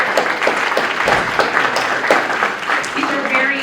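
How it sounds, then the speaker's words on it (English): A quick round of applause for two students standing up at a facilities planning committee meeting, moderate steady clapping from a room of attendees with scattered voices mixed in. "If we could all give them a quick round of applause"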